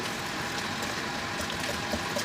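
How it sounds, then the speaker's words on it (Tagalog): Water being poured into a chocolate cake mixture, a soft continuous trickling splash at moderate distance, steady throughout with no talking. "So butangan na nato siya tubig."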